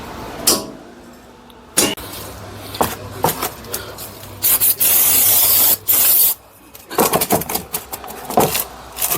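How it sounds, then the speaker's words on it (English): Several bursts of hissing brake cleaner spray, two long and steady, mixed with scraping, rubbing and clinking of tools nearby, during a rear wheel bearing replacement on a 2010 VW CC. "I'm gonna spray some brake cleaner."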